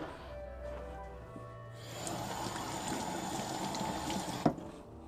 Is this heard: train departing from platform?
no